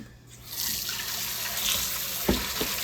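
Tap water runs steadily into a bowl in a home kitchen, a continuous close splashing wash with a couple of small clunks near the end.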